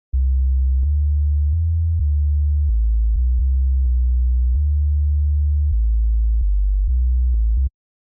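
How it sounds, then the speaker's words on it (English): A deep, pure-toned synth bass plays a short stepping line of held notes with abrupt changes, then stops cleanly. "this is the little bass line that I came up with"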